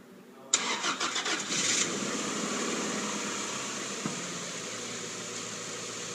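A rebuilt 1994 Acura Integra GSR engine cranks briefly with a quick stuttering starter whir, catches within about a second, and settles into a steady, loud, close idle with a high fan-like hiss.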